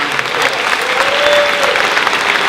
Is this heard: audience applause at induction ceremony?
yes